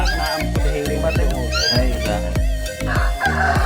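Chickens cluck and squawk close by in quick, irregular bursts, with rhythmic thumps and background commotion throughout.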